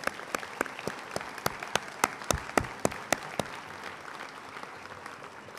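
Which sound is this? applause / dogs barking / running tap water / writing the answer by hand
applause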